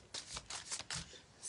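Tarot cards being shuffled close up, several short papery riffles and slaps in quick succession, quiet and alone without any talk.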